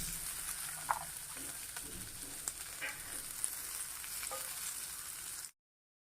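Soaked lentils (dal) frying in an oil tempering, a steady soft sizzle with occasional stirring scrapes and small pops, close and fairly quiet, alone before it cuts off.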